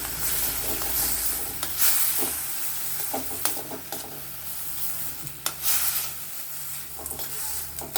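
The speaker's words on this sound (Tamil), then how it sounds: "தக்காளி வதங்கிறது." Tomatoes sauté in a pan with a steady, hissing sizzle, joined by intermittent clicks and scrapes of stirring close by.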